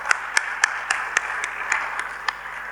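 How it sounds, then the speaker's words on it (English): A few scattered hand claps ring out at a school orientation, about ten distinct, evenly spaced claps over a low hum, sounding like one or two people rather than a full crowd. "give her a big hand of applause."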